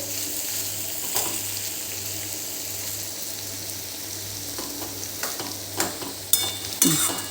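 A bitter gourd and potato curry is stirred in a pan over a low, steady sizzle and hum. Scraping strokes and clatters grow louder toward the end, with no speech.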